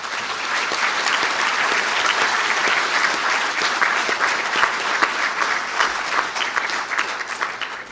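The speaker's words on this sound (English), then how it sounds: "to please stand for a round of applause" A crowd at a university conferring ceremony claps for standing graduates, with sustained, dense applause that stays even throughout.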